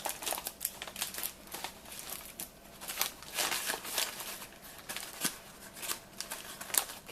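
Tan tape is wrapped around a crinkly popcorn-stuffed turkey leg, giving soft irregular crinkling and tape rustles in quick bursts, close and fairly faint, with no talk.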